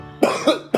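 A person eating a 2x spicy Korean noodle challenge dish with habanero lets out three short, close, harsh coughs in quick succession, each a sharp burst.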